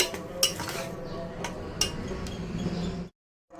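A metal utensil scrapes and clinks against a pot of ivy gourd gravy curry in a few irregular strokes, close by, with a thick stirring sound between the taps.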